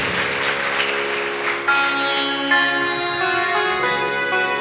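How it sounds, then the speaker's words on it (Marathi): Audience applause for the performing artists at a Shiva katha religious discourse gathering: steady crowd clapping, soon joined by sustained instrumental music that carries on over it. "आणि या सर्व कलाकारांच्या नावानं जोरदार टाळ्या बनते."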